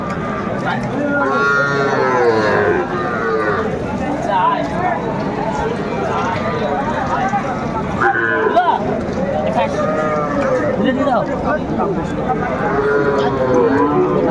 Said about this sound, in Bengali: কোয়ালিটি সম্পন্ন বাচ্চাগুলো। ষাঁড় বাচ্চা।